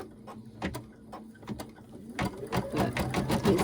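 A home embroidery machine stitches pink thread for the feet of a bunny tummy treat holder design, giving a rapid mechanical needle patter with clicks that grows busier and louder toward the end.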